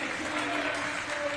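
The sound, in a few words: applause for supporters after Spain's victory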